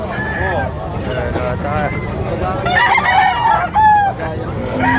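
A year-old rooster crows loudly nearby amid other clucking fowl, with people talking over the noisy barnyard background in Padre Garcia.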